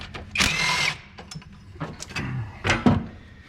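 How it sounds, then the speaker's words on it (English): A 10mm tool, likely a ratchet, loosens the thermostat housing bolts on a Ford 5.4 V8, giving short close bursts of mechanical whirring and clicking over several seconds with brief gaps between them. "get your 10mm, and let's remove the actual thermostat housing bolts now"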